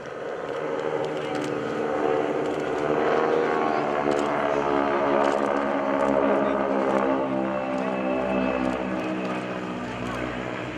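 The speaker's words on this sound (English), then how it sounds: "now you're hearing the rumble of the engine." Formation flyby of North American T-6 Texan (SNJ) warbirds at an airshow, a steady loud radial engine rumble with propeller drone swelling and holding near, continuous throughout without talk.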